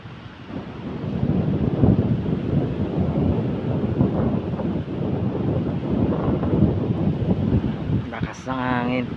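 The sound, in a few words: strong wind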